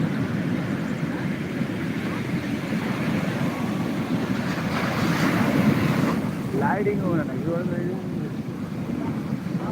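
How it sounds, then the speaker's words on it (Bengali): Sea waves roar at Puri beach in a steady, loud wash of surf that fills the whole stretch, with wind buffeting the microphone and faint voices underneath. "মানে গর্জন করছে হাঁ হাঁ করে দেখো আওয়াজটা"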